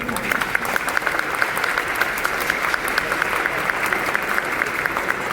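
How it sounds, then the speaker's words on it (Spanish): Steady audience applause welcoming a priest to speak at a tribute to Pope Francis, dense even clapping from a sizable crowd held at a constant level throughout. "lo recibimos con un aplauso"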